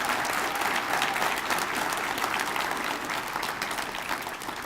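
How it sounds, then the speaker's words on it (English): An audience at a Martin Luther King Jr. celebration event breaks into sustained applause, a dense wash of many hands clapping that carries on steadily and fades only slightly toward the end. "Let's give them a big round of applause."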